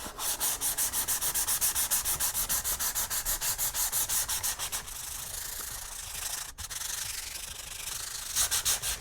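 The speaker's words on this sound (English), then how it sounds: "Now it's just a matter of getting everything a nice sanding to smooth everything out with." A handmade Boba Fett vambrace is sanded with 220 grit sandpaper in loud, close, rhythmic back-and-forth strokes with a brief pause near the end before the scraping resumes.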